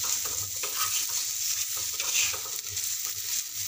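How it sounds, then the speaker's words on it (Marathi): Masala roasting in oil for brinjal bharit gives off a steady, close sizzle with soft scraping from stirring throughout, and no voices. "तेल सुटेपर्यंत छान मस्त खरपूस असं भाजून घ्यायचं आहे"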